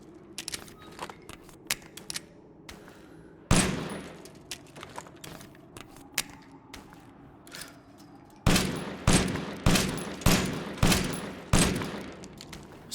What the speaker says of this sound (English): So this weapon has a mean fire rate, as you saw right there.